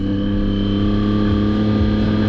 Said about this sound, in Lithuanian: O čia jūsų dėmesiu į motociklų triukų šou Irmanas ir Paulius.